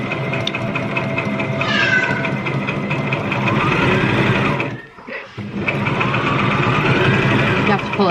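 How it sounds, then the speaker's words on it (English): A household sewing machine runs steadily at close range, a loud continuous motorized whir with a brief pause midway before it resumes, while children and an adult talk over it. "it started sewing"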